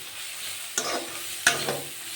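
Onion, turmeric, salt, cumin and chili powder frying in a pan for loitta fish curry are stirred twice, each stroke a short scrape over a steady low sizzle with no talk.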